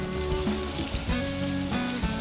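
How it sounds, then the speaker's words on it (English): Coconut-crusted tofu frying in hot oil in a pan, with a steady, dense sizzle and crackle that holds throughout. No one is talking. "you want to make sure that the oil is nice and sizzling hot"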